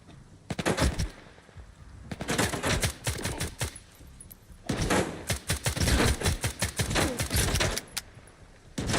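Enemy gunfire in S.T.A.L.K.E.R. 2, scattered sharp rifle shots and short rattling bursts cracking irregularly at mid distance, with no speech over them.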